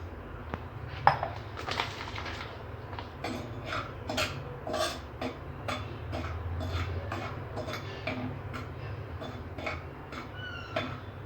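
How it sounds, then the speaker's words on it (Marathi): Semolina being dry-roasted in a pan over low heat for baby upma, heard as steady light scraping and clinking of a utensil against the pan in repeated strokes, close and moderately quiet with no talk. "सर्वप्रथम मंद आचेवर 2 मिनिटे आपण रवा भाजून घेऊयात."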